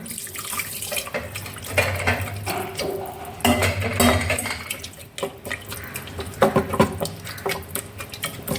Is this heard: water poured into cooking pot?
yes